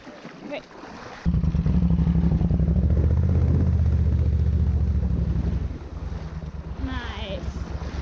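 A motorcycle engine roars loudly and steadily while water churns and splashes around it, then eases to a lower, rougher rumble with wind buffeting the microphone.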